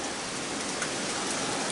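Heavy, wind-driven rain pours down near a porch swing in a constant close wash of dense patter and hiss, steady from start to finish with no talking.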